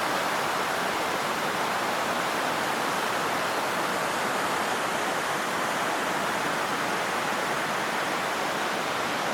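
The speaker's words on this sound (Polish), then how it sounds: "i pod takim wodospadem" A waterfall below a glacier at Melkevoll Bretun, Norway, roars in a constant, dense rush of falling water, steady and unbroken from start to finish with no voices.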